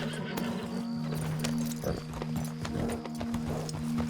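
Horses setting off under riders in Red Dead Online, close clip-clopping hooves in an uneven trot with a brief whinny, over a steady low background hum.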